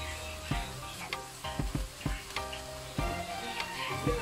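Bitter gourd (ampalaya) fries in a pan as three beaten eggs go in, a steady close sizzle broken by several sharp clinks and scraping stirs of a utensil against the pan.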